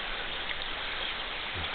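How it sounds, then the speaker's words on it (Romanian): Steady rain hissing evenly throughout, a dense wash of falling drops with no voices. "Vine o ploaie."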